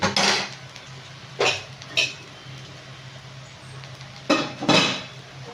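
A utensil clinks and scrapes against a pan as rice goes into a sweet potato and cabbage mixture, with several short, sharp metallic bursts spaced unevenly over a quiet background.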